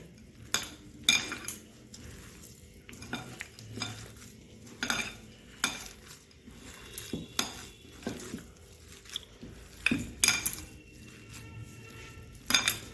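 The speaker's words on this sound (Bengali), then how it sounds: "এবারে আবার আমি একটু মেখে নিচ্ছি ভালো করে।" Vegetable chop filling being mixed by hand with coriander leaves, green chili and ginger paste in a bowl, irregular soft squelching and stirring pulses with occasional clinks against the vessel, close and fairly quiet, no talking.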